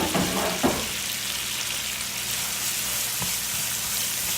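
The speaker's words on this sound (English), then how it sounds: "let this cook for about another 5 more minutes so the garlic could spread all over and cook" Garlic cooking in a frying pan at home, giving a steady broadband sizzle throughout with a couple of brief stirring knocks near the start.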